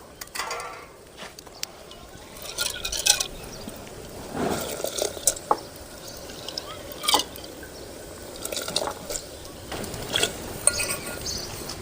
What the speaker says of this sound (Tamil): தண்ணி நல்லா கொதிக்குது